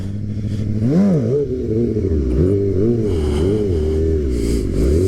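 A dirt bike engine revs continuously during a circle wheelie, its pitch rising and dipping in waves as the throttle is worked, loud and close.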